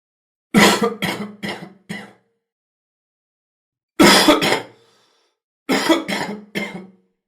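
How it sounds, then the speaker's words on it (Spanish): Three separate bouts of chesty, wet coughing that moves mucus, each a quick run of several harsh coughs, separated by silence and close to the microphone. "La tos que mueve material se llama tos húmeda"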